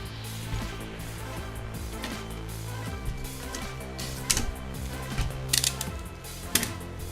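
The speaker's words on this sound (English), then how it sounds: "we simply spool the new line this on the rod" Fresh fishing line being wound onto the reel of a carp rod, a steady mechanical whirr of turning with small clicks and ticks, louder clicking bursts toward the end, no voices.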